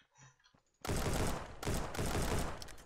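Gunfire in a trench warfare video game, a brief quiet lead-in followed by two dense bursts of loud rapid shots, close and harsh, with no talk.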